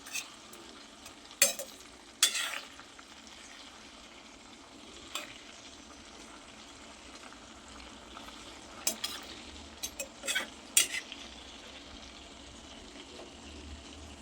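Tomatoes fry in oil in a pan over a low-to-medium gas flame, a steady soft sizzle running throughout. A spoon stirs and turns them, producing scattered scraping clinks against the pan.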